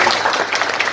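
Applause from an audience at a meeting of Birla Capital Life Insurance agents in a hotel in Orai, steady dense clapping throughout a short burst, fairly close and full.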